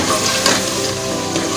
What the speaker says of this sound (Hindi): गोश्त को इसमें फ्राई करेंगे यानी कि भून लेंगे